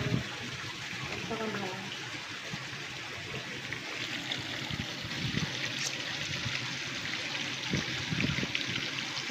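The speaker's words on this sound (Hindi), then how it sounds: "तो संगवारी एक बार कूलर में पानी भरा" Water pours and splashes steadily into an air cooler's tank, a continuous broadband rush with a faint trickle beneath it and light background noise throughout.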